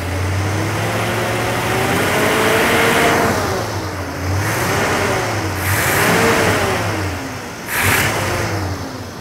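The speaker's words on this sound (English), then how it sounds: "I'm gonna pick some RPM up." A car engine revs up and down in repeated swells during distributor timing adjustment, loud and close, rising and falling about four times with no speech.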